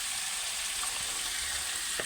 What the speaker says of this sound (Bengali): তো আমি একসাথেই ভাজছি যাতে তাড়াতাড়ি হয় আমার